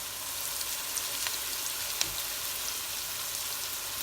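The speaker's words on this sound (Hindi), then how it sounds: "हम ये जो अलहदा से हम फ्राई कर रहे हैं पनीर" Paneer cubes frying in a pan for palak paneer, a soft, even sizzle with a few faint clicks and one louder tap near the middle, no talking.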